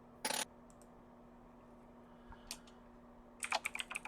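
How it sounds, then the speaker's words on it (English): Clacky computer keyboard typing, a crisp burst of keystrokes, a few scattered taps, then a rapid flurry of clicks, quiet and near with no voices. "I love a clacky keyboard"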